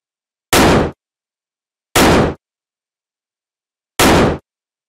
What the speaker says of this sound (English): To give the shotgun a more intense and explosive feel, I added another gunshot sound processed with heavy saturation and wave shaping distortion.